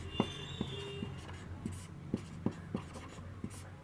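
Chalk or marker tapping and scraping on a classroom board during a Hindi-medium general studies lesson, sounding as short, regular strokes about every half second, moderately close, with a steady low hum beneath.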